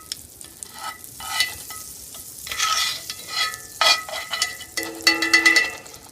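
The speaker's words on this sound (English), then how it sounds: "you're going to swirl the butter around some" Butter sizzling as it is swirled around a cast iron skillet before steaks go in, with bursts of crackling and hiss that rise and fall with the scraping and tilting of the pan.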